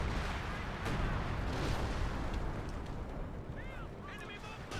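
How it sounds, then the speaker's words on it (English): Artillery concentration barrage in a World War II strategy video game, a dense continuous rumble of distant shell fire and blasts with scattered sharper reports, heard under a faint voice. "Concentration barrage in effect, though."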